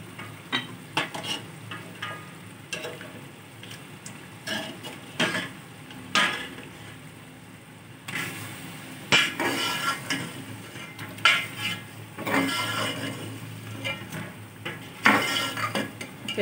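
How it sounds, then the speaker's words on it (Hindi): Camel meat for nihari is sautéed in a pot, a low sizzle under repeated metal ladle scrapes and clanks against the pot, arriving in irregular bursts close up, with no talking. "थोड़ी सी हम गोश्त की भुनाई करेंगे"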